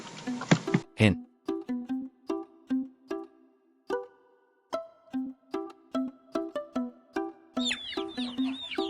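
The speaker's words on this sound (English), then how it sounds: "This is a hen." A farm hen clucks in a steady series of short, close, repeated clucks, about two per second, with a brief gap midway and no other sound over them.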